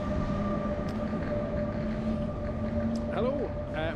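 Steady rumble and hum of an NS (Nederlandse Spoorwegen) locomotive-hauled train with carriages running between Rotterdam and Eindhoven, heard from inside as a continuous close drone with a tonal whine and brief squeals near the end.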